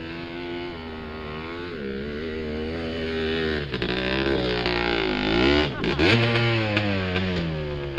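An off-road motorcycle rides desert trails at Johnson Valley with its engine droning near and loud, the pitch rising and falling through revs and one sharp dip and surge, and no voices.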